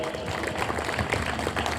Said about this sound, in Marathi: आपण सर्वांनी आदरणीय दादांचं जोरदार टाळ्या वाजवून या केशवनगर नगरीमध्ये स्वागत करूया